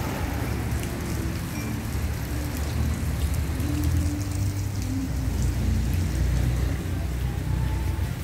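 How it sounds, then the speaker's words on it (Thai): Steady rain falls during an outdoor northern Thai khantoke meal, a dense, continuous patter and hiss that holds at an even level throughout with no voices. "ฝนตกแล้วนานะคะ"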